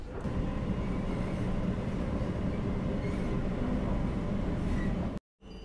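A Kolkata metro train running from Dumdum toward Esplanade gives a loud, continuous rumble and rattle heard from inside the car, holding steady until a brief sudden dropout near the end.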